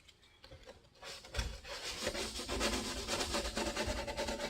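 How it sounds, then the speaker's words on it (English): Light sanding scuffs a 1998 Jeep ZJ Limited tail light lens, a steady close rasping rub that starts softly and grows louder and denser after the first second, continuing without talk. "I want to sand everything lightly. I just want to scuff it up."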